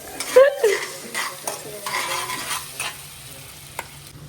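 Onions sizzling in a hot pan while a spoon stirs and scrapes them in a few short bursts, close and moderately loud, with no talking.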